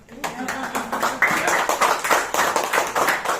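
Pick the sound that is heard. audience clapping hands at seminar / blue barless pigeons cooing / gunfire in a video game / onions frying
audience clapping hands at seminar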